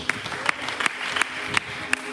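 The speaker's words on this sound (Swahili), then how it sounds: "Pige makofi ya shangwe kwa Yesu." A church congregation claps during a Sunday service, a short burst of scattered, fairly loud hand claps at an uneven rhythm.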